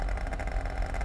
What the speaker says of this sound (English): Look, I'm revving it.